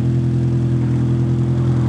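A modified 1984–85 Toyota AE86 Levin GTV with a 4AGE swap, individual throttle bodies and loud exhaust holds a steady, loud engine note at close range, droning evenly throughout.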